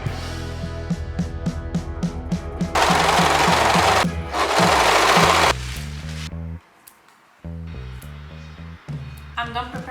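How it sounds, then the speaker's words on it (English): Overlocker sewing fabric pieces for a wedding dress, loud, steady bursts of fast mechanical stitching with brief stops, mixed with background music and speech. "I can finally start overlocking."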